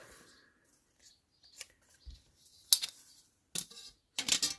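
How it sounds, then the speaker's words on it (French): A metal ruler clatters and scrapes on a worktable while scrap paper is cut for a scrapbooking card, with a few sharp, loud bursts between quieter soft rustles and taps. "avec la règle en métal, ça va faire un peu de bruit"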